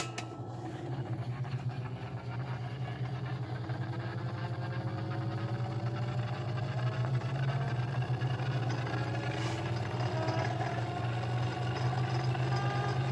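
A Webster-Chicago 81-1 wire recorder being troubleshot plays back with a steady low motor hum and mechanical whir, running continuously at moderate level with no talk.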